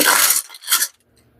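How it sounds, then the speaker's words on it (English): Aluminum foil is pressed tightly over a baking dish of cinnamon rolls, two close, crisp crinkling bursts followed by quiet. "we're going to use a piece of aluminum foil to cover our dish"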